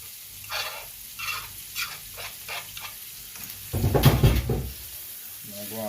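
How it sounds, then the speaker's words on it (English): Sweet pepper, onion, garlic, hot pepper and carrot sauté in a pan for jerk shrimp alfredo. Sizzling bursts and stirring scrapes come and go, with a louder crackling rush near the end. "Now go and saute them here."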